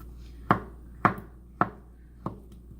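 A knife chops through avocado on a cutting board with four crisp, evenly spaced strikes, close and clear in a quiet kitchen.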